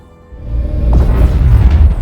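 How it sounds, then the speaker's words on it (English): A deep cinematic explosion effect for a spaceship impact shockwave in a science-fiction film: a swelling low boom that rises quickly and holds as a loud, rumbling roar. "The director specifically wanted a dome-shaped explosion for the spaceship impact that grows in size"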